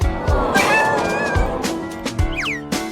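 A cat meows repeatedly up close, several loud, drawn-out wavering cries with sliding pitch, heard alone without talk.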